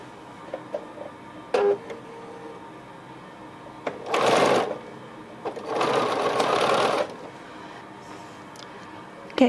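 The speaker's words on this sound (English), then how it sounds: "I'm going to sew a 1/4-inch seam across the top" A sewing machine stitches a 1/4-inch seam in short bursts, two main runs of rapid mechanical whirring, close and clear, separated by quiet pauses with small clicks and handling noises.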